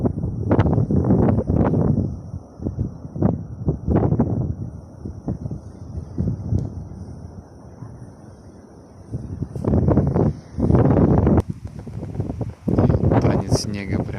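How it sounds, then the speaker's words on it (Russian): Strong wind sweeps snow across the open Khakas steppe, a broad steady roar of gusts rising and falling close to the microphone, with someone talking over it at intervals. "Наверху слышно, как шумит, деревья качаются. Сильный ветер наверху прям."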